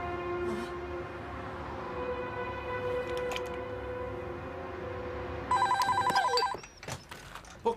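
A telephone rings in repeated bright electronic bursts through a steady low rumble of a moving vehicle, the rings growing louder and more clipped toward the end before a sudden stop.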